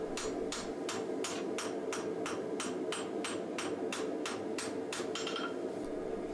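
Steady hand-hammer blows ring out on katana steel being forged and tapered into the blade segment of a sunobe, about fourteen evenly spaced metallic strikes, close and loud, with no voices.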